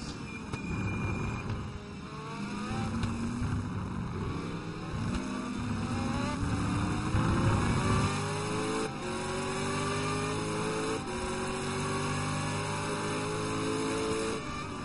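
Corvette racing cars in the STC Black Cup at Spa, engines revving and shifting through gears with rising and falling tones, loud and sustained, several cars overlapping, no talk.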